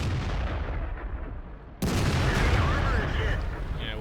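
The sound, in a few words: T29 tank cannon shot, World of Tanks video game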